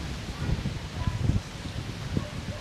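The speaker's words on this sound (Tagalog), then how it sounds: "Ang lakas ng hangin dito." Gusty wind blows outdoors at a hot spring resort in San Pablo, Laguna, a low, steady rumble and rustle with a few stronger puffs, faint and continuous with no clear voices.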